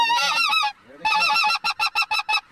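A flock of geese flying over a goose-hunting spread honks loudly and close, first in a dense overlapping chorus, then in a rapid series of separate, evenly spaced honks.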